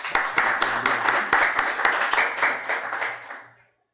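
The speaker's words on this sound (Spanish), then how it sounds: "con un aplauso" A crowd claps at a researcher's day event in Colombia, a dense burst of many hands with sharp individual claps standing out, held steady and loud before dying away abruptly near the end.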